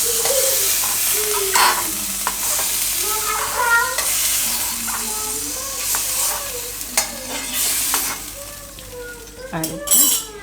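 Broccoli and paneer frying in a pan while being stirred, a steady sizzle with repeated scraping strokes and occasional light clinks of a utensil, close and continuous throughout.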